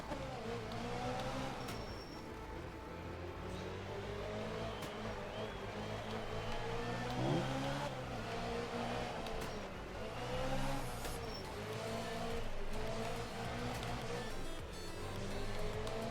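A rally car in Art of Rally drives through Finnish countryside, with a steady close engine drone that rises and falls with throttle and gear changes, punctuated by small clicks and bumps.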